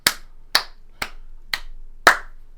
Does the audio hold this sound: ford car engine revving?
no